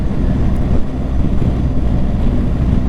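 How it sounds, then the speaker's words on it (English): A boat engine rumbles smoothly and steadily while cruising, a low, even drone with no breaks or surges, close and fairly loud. "You can hear the engine rumbling"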